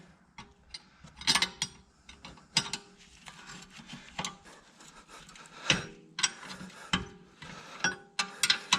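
A spanner ratchets on a rear brake caliper bolt of a 2010 Skoda Yeti during a brake pad change, giving repeated close clicking bursts in an irregular rhythm with brief pauses between strokes.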